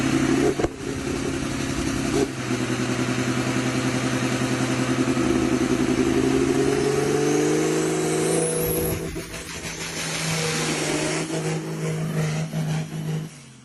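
An ENEY TB504 tractor's heavy engine runs steadily at close range with a low, droning hum, its pitch rising slightly as it revs, then dipping and settling back.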